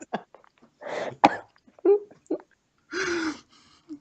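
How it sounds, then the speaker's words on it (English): Someone has a coughing fit: several harsh, separate coughs and gasping breaths in irregular bursts, close to the microphone with short pauses between them. "I just had a huge coughing fit thinking about that."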